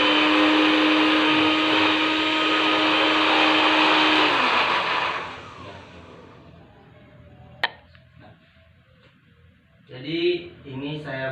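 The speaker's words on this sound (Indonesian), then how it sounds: "jadi ini bawang putih yang udah dikupas tadi kita haluskan memakai blender." A kitchen blender grinds peeled garlic with a little water, roaring loud and steady for about four seconds before winding down, followed by a sharp knock, quiet, and then a voice speaking.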